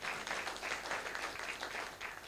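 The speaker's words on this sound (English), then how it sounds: "So please give yourselves a round of applause for the work that you've already done." Audience applause at a political speaking event marking ten years since Citizens United: a steady, dense wash of many hands clapping throughout, fairly loud and continuous.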